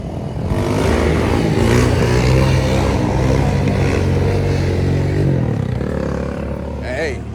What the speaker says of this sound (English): We got guys popping wheelies on motorcycles.